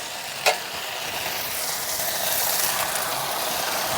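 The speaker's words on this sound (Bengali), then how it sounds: "এই পর্যায়ে আমি দিয়ে দিচ্ছি সরষে রাই বাটাটা" Mustard paste with ginger, green chilli and cooked tomato hits a hot pan for a village-style bhindi shorshe curry, starting with a brief plop and then a steady, close sizzle that builds slightly and holds.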